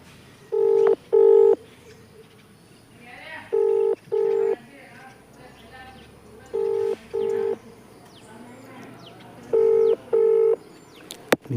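An outgoing phone call going unanswered: four evenly spaced pairs of ringback tones pulse with pauses between them, clear and steady, with faint background noise and no clear talk.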